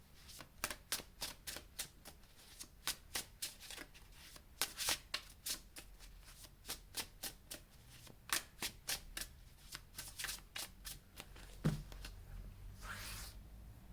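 Tarot cards shuffled by hand ahead of a reading, giving a long run of quick crisp riffling bursts in an irregular rhythm, close and fairly quiet, with no voices over them.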